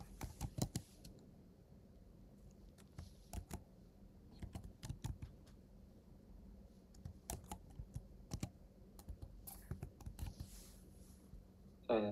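Faint, quiet typing on a computer keyboard, with irregular bursts of light keystrokes separated by short pauses and a louder cluster of clicks near the end.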